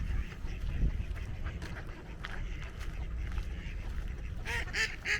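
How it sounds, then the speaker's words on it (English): Ducks on the snowy winter coast of Årstaviken in Södermalm quack and honk a few times, fairly near, over steady outdoor ambience, with a burst of calls near the end. "hey duckies! My friends are back. The ducks."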